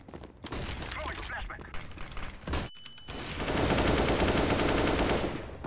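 Rapid automatic P90 gunfire in a competitive first-person shooter match, dense bursts of shots loud in the mix, with talk from players overlapping the firing.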